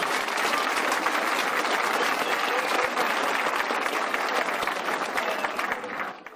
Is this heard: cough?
no